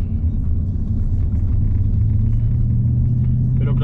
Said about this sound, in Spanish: el escape la verdad que se escucha bastante dentro